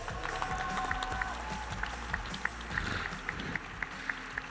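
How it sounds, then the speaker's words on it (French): Audience at a Japan Expo game show clapping in a rhythmic, steady beat, moderately loud, with crowd murmur underneath. "on les applaudit s'il vous plaît"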